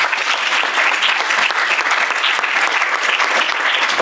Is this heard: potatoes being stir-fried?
no